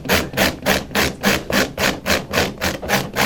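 Rhythmic grinding of a cushion edge with a custom infield modification tool, about ten loud rasping back-and-forth strokes in steady succession, close up and without speech.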